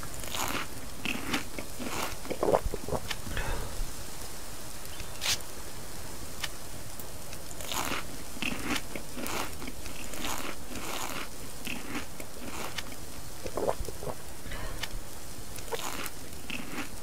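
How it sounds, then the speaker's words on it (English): Loud, wet eating and chewing from a character inside a house in the video game Subsistence, with irregular biting and crunching bursts repeating over steady background ambience, no talk. "I can hear you eating in that house."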